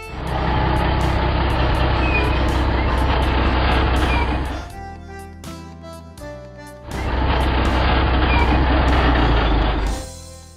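A tow truck engine runs loud and steady, drops away briefly to a quieter idle with a few tonal beeps, then roars again at close range before cutting off.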